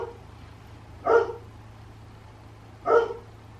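A dog barks twice, about two seconds apart, each a short sharp bark at moderate distance over a steady low background hum, with no talking.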